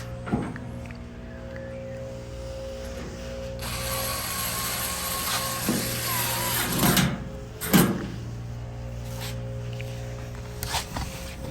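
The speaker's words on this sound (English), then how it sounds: "you have your 1/4-inch screws to screw in and lock it in place" A ratchet drives 1/4-inch screws into a Maytag Bravos XL electric dryer during a thermal fuse repair, its pawl clicking in quick close bursts over a constant hum, with a few louder knocks from handling.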